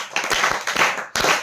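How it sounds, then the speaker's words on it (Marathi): Hand clapping in short bursts from a small group, probably a classroom, with a few sharp claps standing out, a brief pause near the end, and then clapping again. "मित्रांनो, अहवाल चांगलं चालू आहे तर टाळ्या वाजवणे भाग आहे."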